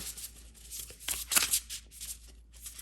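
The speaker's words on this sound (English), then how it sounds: "Give it one more shuffle." A close, soft flurry of Woodland Wardens oracle cards being shuffled, with riffling, papery bursts that build in the middle and then taper off.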